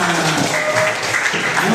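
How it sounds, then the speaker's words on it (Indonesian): A classroom of students claps together during a lesson, a short burst of dense applause with a voice murmuring underneath. "Tepuk tangan semuanya."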